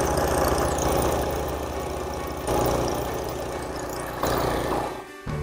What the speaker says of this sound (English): I'm engaging the blade. That unit's in full running motion,